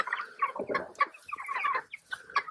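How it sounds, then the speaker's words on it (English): Cornish cross meat chickens on a farm cluck in a series of short, close, fairly soft calls with brief pauses, several birds overlapping, no talking. "Our Cornish cross chickens."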